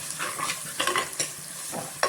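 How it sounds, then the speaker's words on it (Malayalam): Onions sauté in a pan with a soft, continuous sizzle, while a spoon scrapes and stirs in irregular clatters, close and fairly quiet. "സവാള നന്നായിട്ട് വഴറ്റാം"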